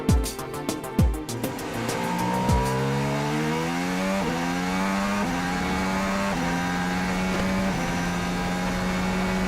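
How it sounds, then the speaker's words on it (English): A Formula 1 car on an onboard lap of the Malaysian Grand Prix circuit, loud and close, with a few sharp downshifts and then a high engine whine climbing steadily through the gears. "Let's see a lap from a driver's perspective as we ride with Max Verstappen."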